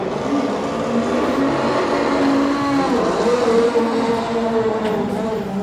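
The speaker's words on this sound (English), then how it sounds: "Even at idle, it is the most amazing sounding engine." A Mazda 787B race car engine runs at a loud, steady idle with a rough, buzzing drone and slight pitch shifts, played back over a continuous noisy background.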